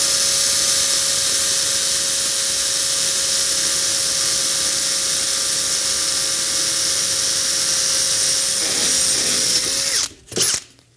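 A power drill whines at a steady high pitch while boring a hole in a launcher assembly, loud and close and continuous, then stops, followed by a couple of short sharp bursts as the rivet is set.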